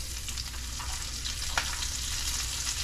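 Chopped onion hits hot rendered bacon fat, with the bacon almost crispy, and sizzles in a steady, close frying hiss with a few soft stirring scrapes and no talk.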